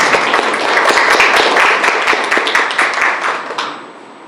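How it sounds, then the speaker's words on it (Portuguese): Audience at a university panel on cultural diversity and ethnic-racial relations gives a round of applause, loud and close, with dense clapping that holds steady and then tapers off toward the end. "Uma salva de palmas."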